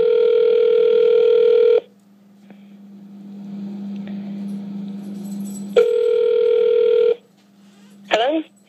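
Telephone ringback tone on a call line: two long, loud ring bursts separated by a quieter low dial hum, a brief click near the end.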